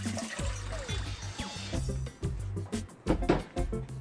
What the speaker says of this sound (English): this calls for a 1 3/4 cup of water. I'm going to put that in the pot.